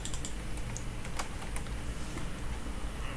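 Rapid clicking of keys as someone types on a computer keyboard at a terminal, a close, busy patter of keystrokes throughout with no talk.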